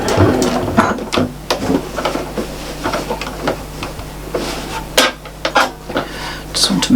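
A sewing machine runs a straight stitch around a star on a Christmas tree mat, using gold embroidery thread: a loud, busy mechanical clatter of rapid ticks and knocks that continues without a break.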